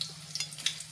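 Green chillies, cumin seeds and bay leaves sizzle in hot tempering oil for rice, a soft, steady crackle with a few brighter pops, close and fairly quiet with no talking.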